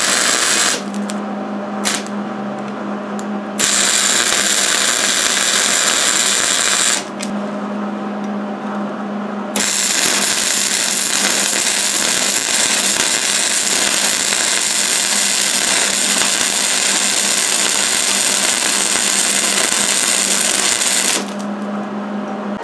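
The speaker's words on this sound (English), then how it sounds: "while the forge is firing up there" A blacksmith's forge firing up for forging a Damascus knife, giving a loud, steady roaring blast broken by a few brief shifts in pitch and level, alone with no voices.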